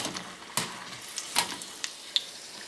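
Chilli bajji frying in hot oil, heard as a quiet, low bubbling with scattered sharp crackles and pops at irregular moments and no voices.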